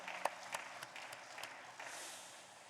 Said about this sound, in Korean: 다시 한번 격려하는 박수 한번 더 해요.